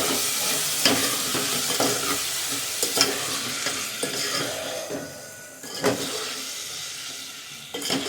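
Curd sautéed in a pan for vegetable pulao, a lively sizzle with repeated spoon stirring and occasional clinks of metal against the pan, close and fairly loud throughout, with no talking.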